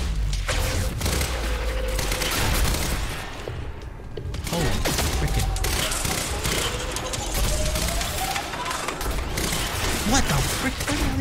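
Tactical SMG fire in the Quantum Break video game: dense, continuous bursts of automatic gunfire with thuds and impacts in a busy game battle mix, loud and near throughout.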